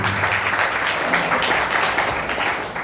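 A worship congregation at a Sunday church service claps together in steady, dense applause that fills the room evenly, holding loud and continuous from start to finish before easing slightly at the end.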